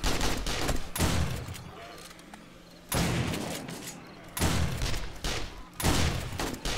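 Pump action shotgun blasts in a co-op zombie horde-night video game, coming as four loud, booming shots spaced about one to two seconds apart, each with a long rumbling tail, no talk over them.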